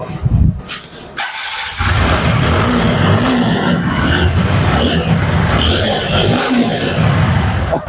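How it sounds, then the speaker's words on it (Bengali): A TVS Apache RTR 4V ABS motorcycle engine runs close by, starting with a sharp burst and then holding a rough, steady rev with small blips and swells. "বাইকের সাউন্ড কন্ডিশন দেখতেছেন একদম ফার্স্ট ক্লাস"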